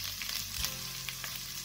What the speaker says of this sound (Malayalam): വെളുത്തുള്ളിയും പിന്നെ ഇഞ്ചി നല്ലോണം ഒന്ന് ഫ്രൈ ആയി കിട്ടണം